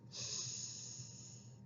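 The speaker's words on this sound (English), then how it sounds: "So take in a deep breath," A single slow, deep inhale drawn in through the diaphragm during a relaxation exercise, close and airy, lasting about a second and a half with no talking.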